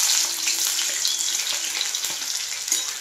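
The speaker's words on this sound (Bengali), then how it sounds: "কড়াই তেল আছে, গরম হয়ে গেছে। প্রথমে আমি এটাতে পেঁয়াজ দেব।" Onions frying in hot oil in a wok, a dense, steady sizzle and crackle that stays loud and close throughout, with no talking.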